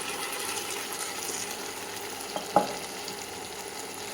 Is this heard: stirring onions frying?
yes